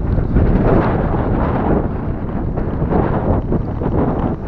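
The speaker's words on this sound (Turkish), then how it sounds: "öyle bir rüzgar var ki" Strong wind in Mudanya buffets the microphone continuously, a loud, rough roaring rush with gusty swells throughout.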